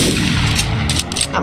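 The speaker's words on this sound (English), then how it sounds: "Yep, they're shooting each other." Gunfire in Ashes of Equestria as characters shoot at each other, a quick burst of several sharp cracking shots over a continuous low rumble, close and fairly loud.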